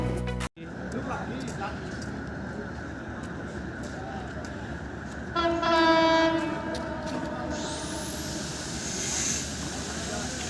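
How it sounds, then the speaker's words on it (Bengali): A train passes close by, its loud rumble rising as the horn sounds with a sustained tone, then the roar of the cars continues as it rolls on. "যাওয়ার পথে হঠাৎ দেখি ট্রেন আসতেছে।"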